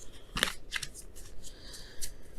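Tarot cards being shuffled, giving a few quick papery riffles and flicks at close range, with no voices.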